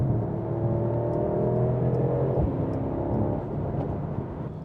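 The engine of a 2024 Mercedes-AMG GT63 revs toward its 6,000 to 6,500 RPM redline on a downshift, a loud, close, sustained roar whose pitch climbs and then eases off, with no talking.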